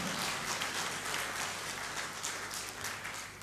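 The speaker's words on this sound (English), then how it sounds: "Give them a round of applause." Steady audience applause for a band fills the room, a dense, even patter of many hands clapping at moderate distance throughout, with no one speaking over it.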